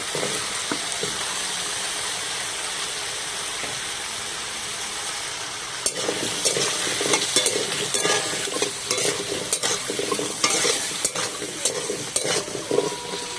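Taro (kochu) pieces frying in oil, a continuous bright sizzle that grows busier halfway through, with repeated rattling scrapes and clicks of a spatula against the pan, close and steady, no speech.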